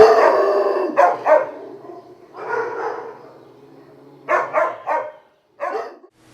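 Many shelter dogs bark and howl together in echoing kennel corridors, a loud sustained chorus that breaks into separate bursts of barking with short quieter gaps between.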